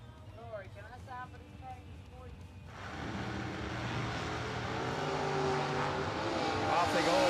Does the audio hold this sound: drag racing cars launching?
yes